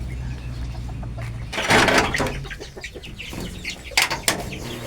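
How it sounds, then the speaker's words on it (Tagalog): Rhode Island Red chickens cluck in a backyard grower house, a close flock whose loud bursts rise over a low hum, with sharp clucks and a flurry of wing movement near the end. "Ito yung aking mga Rhode Island Red."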